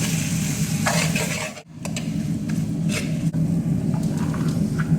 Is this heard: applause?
no